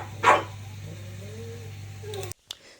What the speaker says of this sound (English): But when I go in there and get the dog food out, he just barks.